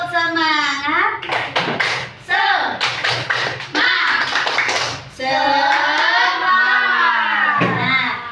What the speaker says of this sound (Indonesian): Ayo, kita semuanya tepuk semangat dulu bersama. Ayo, tepuk semangat.